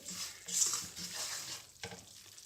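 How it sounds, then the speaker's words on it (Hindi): Moong dal dry-roasting in a pan while a spoon stirs it steadily, giving a soft continuous sizzle with scraping strokes and a brief louder scrape near the end, close and alone without talk. "और देखिएगा कि ये जले नहीं, चम्मच साथ साथ इसे चलाती रहिएगा।"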